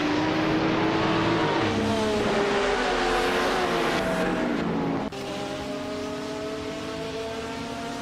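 A 2001 BMW M346 GTR race car screams along at full throttle in a racing game at Brasilia, its steady high engine note rising through the gears, with a sharp shift and a drop in pitch partway through, continuous and loud.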